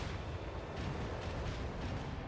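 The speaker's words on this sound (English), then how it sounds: "macro cannon, volley!" A macro cannon volley fires aboard a ship in the Rogue Trader video game, a dense, rumbling wall of booming blasts that rolls on steadily for a couple of seconds.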